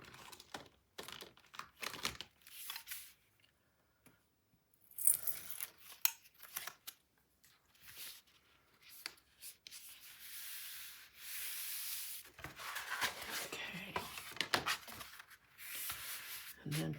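A tool rubs along a half-inch score line on paper for a mini album, making faint, scratchy, sanding-like strokes in irregular bursts that grow steadier and more continuous toward the end.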